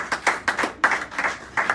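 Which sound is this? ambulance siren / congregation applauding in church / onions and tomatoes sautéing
congregation applauding in church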